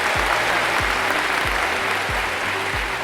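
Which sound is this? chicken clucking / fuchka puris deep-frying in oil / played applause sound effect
played applause sound effect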